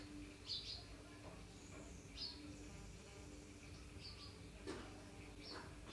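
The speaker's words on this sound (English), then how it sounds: "Oh, that's a bird." A bird gives faint, short chirps at scattered moments against a quiet outdoor background.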